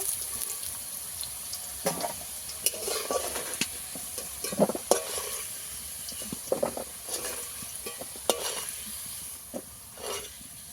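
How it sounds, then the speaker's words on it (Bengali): Cauliflower fries in a pan at home, a soft steady sizzle broken by scattered clinks and scrapes of stirring, fairly quiet and close, with no talking. "ফুলকপি ভালো করে ভেজে নেব"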